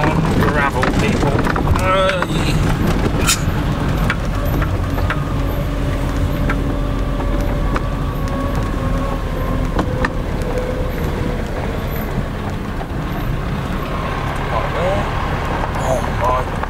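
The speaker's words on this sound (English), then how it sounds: "Not road anymore. We're now on gravel, people." A car rolling along a gravel road with a constant rumble and wind buffeting the cabin, while the driver talks over it.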